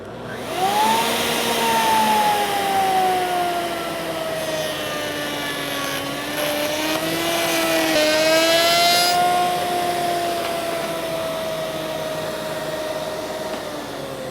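Router cutting a cove and back cut in a wood workpiece, a loud sustained whining motor with a gliding pitch that shifts as the cutter bites, running continuously throughout.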